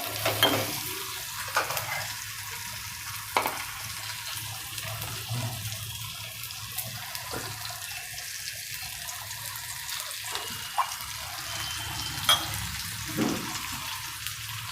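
Steady sizzling of onion and tomato in a frying pan with occasional stirring clinks and scrapes, continuous and moderately loud with no voices.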